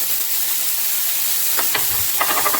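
Garlic sizzling in a hot pan of beef and vegetable stir fry, a steady bright hiss of frying with a few clinks and stirring scrapes toward the end, close and continuous, with no speech.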